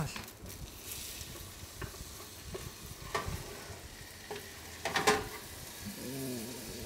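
Australian Wagyu steak sizzles steadily in a hot pan, a continuous crackling frying hiss with occasional sharper pops and spits, moderately close and without talk.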